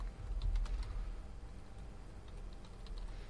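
Fast typing on a computer keyboard, a quick flurry of close, light key clicks at first, then sparser taps over a low background hum.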